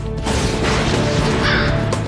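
Wild crows give loud, harsh caws in repeated bursts against steady background noise, in a setting where researchers study whether crows recognize human faces.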